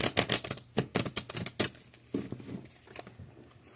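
Tarot or oracle cards are shuffled by hand, giving a quick run of crisp riffling and slapping bursts that thin into softer shuffling and rustling.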